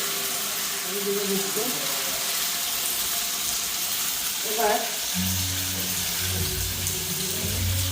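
Noodles fry in a pan on a home stove, giving a continuous bright sizzle with occasional stirring scrapes, while faint voices murmur in the background.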